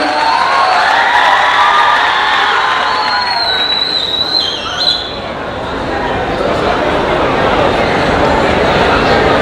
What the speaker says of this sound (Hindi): आप लोगों की तालियां थोड़ी सी कमजोर है, एक बार सर के आगमन पर